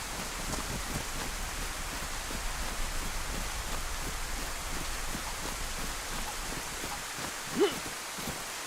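Rain falling in a zombie survival video game near a village, a steady, even hiss of rainfall filling the whole stretch, with one brief soft knock near the end and no talking.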